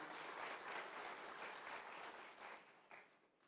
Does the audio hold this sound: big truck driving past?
no